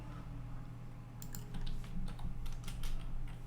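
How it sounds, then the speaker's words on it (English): Keys clatter on a computer keyboard in a quiet room, a faint uneven run of light taps that picks up partway through over a low steady hum, with no talking. "Purely using the keyboard to control."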